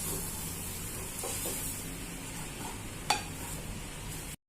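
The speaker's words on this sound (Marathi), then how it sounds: "आपण डाळीचं पीठ भाजून घेऊ। चण्याच्या डाळीचं 1 वाटी पीठ घेतलंय। लाल रंगाचं होईपर्यंत आपण मस्त भाजून घेऊ।" Chickpea flour roasts in a pan while being stirred, a continuous dry sizzling hiss with soft scraping strokes and one sharper clink near the end before a sudden cutoff.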